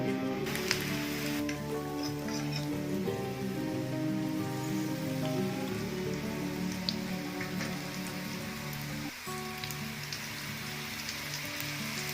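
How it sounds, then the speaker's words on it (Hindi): Onion rings frying in hot oil over a low flame, giving a steady, dense crackling sizzle with scattered pops, fairly close and quiet, continuous throughout with no voices. "तो जो बाकी हैं वो भी फ्राई कर लेंगे"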